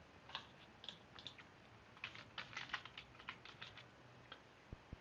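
Someone types on a computer keyboard while building a React app, a quick irregular run of soft clicking keystrokes, near and faint, with a few louder taps at the end.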